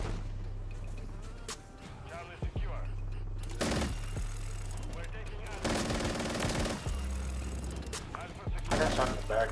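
Video game gunfire rattles in repeated bursts, with sharp cracks and rapid automatic volleys over a steady low engine-like hum, fairly loud and close, with brief pauses between strings of shots.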